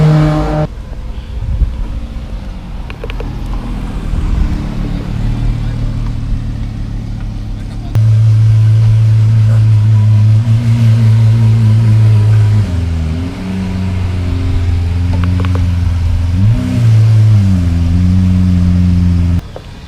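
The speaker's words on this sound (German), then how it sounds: "die ganzen Autos haben schon ihre Motoren angeschmissen" Sports car engines idling and revving at a sports car festival in Velden on Lake Wörthersee, several cars close by with repeated rising and falling throttle blips over a steady rumble, people talking underneath.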